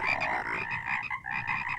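Frogs croaking in the Sunless Skies video game, a dense chorus of overlapping rhythmic croaks at moderate, steady volume, heard alone without talk.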